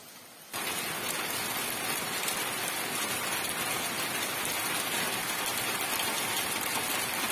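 Heavy rain drumming on a roof in the Urals, starting abruptly and then holding as a dense, steady hiss with no pauses, loud and close throughout.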